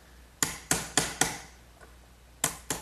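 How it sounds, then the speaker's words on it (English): A sharp chisel struck with a mallet cleans out two mortises in a wooden trestle table part, giving six crisp, close knocks in two groups with a short quiet gap between them. "Now I'll clean out the rest of these 2 mortises with a good sharp chisel"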